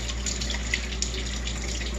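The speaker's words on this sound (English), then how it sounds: "I'll give these a nice rinse. Get all that soap off." Tap water running steadily over soapy hands being rinsed in a sink, a continuous close hiss and splash with no talking.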